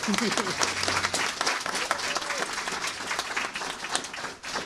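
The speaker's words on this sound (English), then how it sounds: "Let's give them a round of applause so they could hear us." An audience at a community family source center ribbon cutting applauds a clarinet ensemble, a dense burst of clapping and crowd noise with some voices, moderately distant, fading toward the end.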